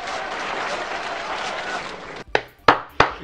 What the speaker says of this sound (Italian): Bravo! Bravo! 92 minuti di applausi!